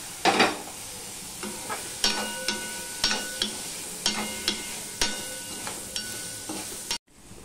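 Green chillies and tomatoes being stirred into sabudana khichuri in a pan, a spatula scraping in a steady series of close, sharp strokes over a soft sizzle, ending in a brief silence.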